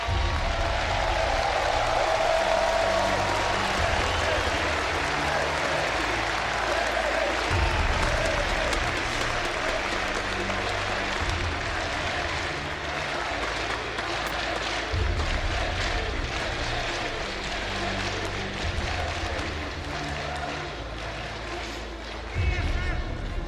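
Large arena crowd applauding the medal winners at IEM Katowice, a League of Legends esports championship. Steady, dense clapping and cheering runs the whole time, loud and sustained, with a low rhythmic music bed underneath.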